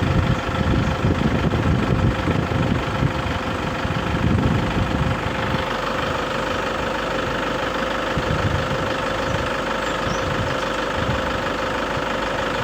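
A Toyota Grand Innova 2KD diesel engine idles steadily with a rough, clattering knock, recorded close to the engine bay, loud and continuous with no talk.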